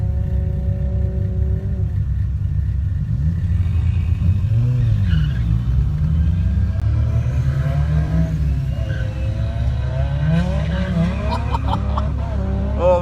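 Datsun race cars roar off the line at a race start, a thick low engine rumble building as several cars accelerate together, loud and steady, with revving pitch sweeps rising over the din.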